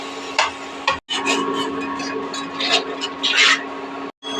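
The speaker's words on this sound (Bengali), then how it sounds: "এবার জল দিয়ে ভালো করে মশলাটা ভেজে নেব" Spice paste of turmeric and chili powder fries with water in a pan, a close, busy sizzle with wet stirring scrapes and bursts, broken by two brief silences.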